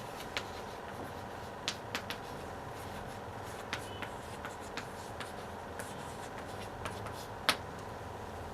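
Chalk or marker writing a sentence on a classroom board, faint scratchy strokes and occasional sharper taps over a steady room hum, with no talking.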